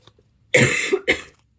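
A single close, loud cough with two harsh bursts in quick succession, isolated against a quiet room.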